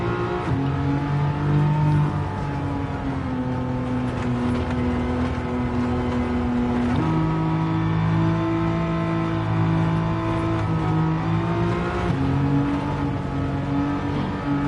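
A 1973 BMW CSL engine drives in Gran Turismo 7, a steady loud drone whose pitch holds, drops with a gear change around midway, then climbs again as it accelerates, with no voices.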